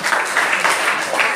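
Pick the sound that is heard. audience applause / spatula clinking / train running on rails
audience applause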